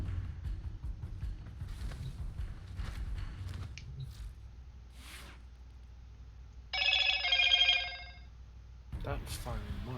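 A phone notification chime rings out for about a second amid quiet room noise, with people talking before and after it.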